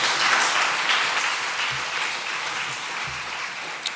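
A church congregation applauds during a Sunday afternoon service: dense, steady clapping that fills the room, starting strong and tapering slightly, with a few low thumps underneath.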